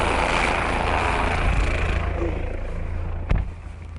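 A Scott Goodyear helicopter races an Infiniti G Coupé on a twisty course, sending up a steady, loud roar of engine and rotor that rises and falls before a sharp thump near the end.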